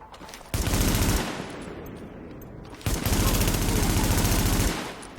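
Heavy automatic gunfire from a weapon with strong recoil in The Division, two long sustained bursts separated by a short gap, loud and close with no talking.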